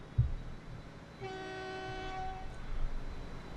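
Train horn in the Transport Fever railway game, a single steady sustained honk of about a second, fairly loud over low ambient game noise.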